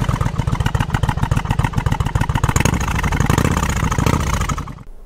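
A warmed-up Yamaha Virago 1100 motorcycle idles close by with a loud, rhythmic, lumpy thump. The engine swells briefly before the sound cuts off near the end.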